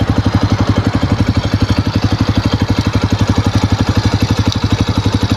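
A motorcycle engine idles steadily at close range, its low, even exhaust pulses thumping in a fast regular rhythm throughout, with no voices over it.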